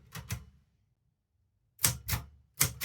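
Short, sharp typewriter keystrokes, crisp and close: a quick pair of strikes, a pause of silence, then three more evenly spaced clacks.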